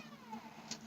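An indoor cat gives a faint, drawn-out meow against steady background hiss.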